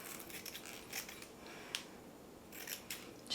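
Scissors snip through excess wig lace in a few short, crisp cuts at close range, with quiet pauses between clusters of snips.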